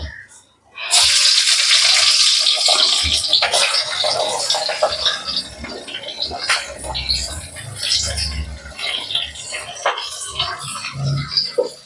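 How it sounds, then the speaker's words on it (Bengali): Sliced onions dropped into hot oil left from browning chicken pieces for crispy chilli chicken, bursting into a loud, steady sizzle that stays close and bright, with a few clinks and stirring scrapes underneath. "ওই তেলেই আমি প্রথমেই পেঁয়াজগুলো দিয়ে দিচ্ছি"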